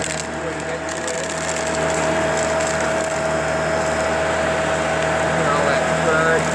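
A Shark Rotator or Navigator Powered Lift-Away vacuum cleaner sucks up dirt, sand, dust and debris, its steady loud motor whine running throughout with faint rattling of grit being drawn in.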